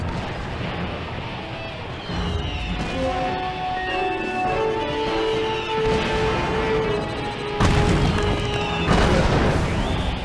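A confusion grenade goes off in the video game Psychonauts, with booming bursts under a busy mix of tonal game music and effects, a heavy blast landing near the end.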